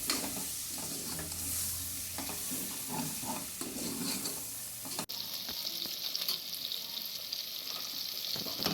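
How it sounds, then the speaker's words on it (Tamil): Tomato, green chili, coriander and mint sauté in oil with ginger-garlic paste, a close steady sizzle with repeated scraping stir strokes and a brief clatter midway, no voices. "தக்காளி பச்சை மிளகா மல்லி புதினாவையும் அந்த இஞ்சி பூண்டுலேயே வதக்கிக்கலாம்"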